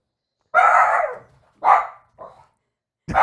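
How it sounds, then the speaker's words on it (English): A dog barks loudly and close by in several separate bursts, with short pauses between them and no voices. "So probably the rest of this commentary is mostly just going to be dog barking."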